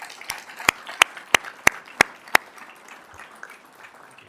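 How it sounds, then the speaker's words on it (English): Applause for a girls swim team at a school board meeting, heard as a handful of sharp, evenly spaced claps that give way to a faint, scattered patter, close and fairly loud. "so a round of applause for our girls swim team"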